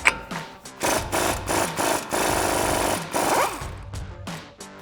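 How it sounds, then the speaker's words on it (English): Impact wrench fitted with a 36 mm socket removing the front axle nut on a four-wheel-drive RAM 1500 pickup, giving several loud, close, rattling hammering bursts separated by short pauses. "Now we're gonna grab our impact and 36 millimeter socket and take that nut off."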